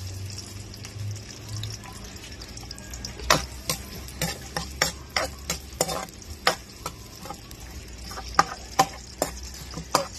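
Onion sautés in a pan for salmon head sinigang with a continuous sizzle, while a utensil knocks and scrapes against the pan in a regular clatter of sharp taps. The sound is close by and there is no talk.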